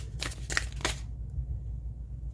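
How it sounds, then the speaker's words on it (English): Tarot cards being shuffled by hand, three quick riffling bursts close up followed by quiet. "I don't know if you guys like to see the shuffle on camera"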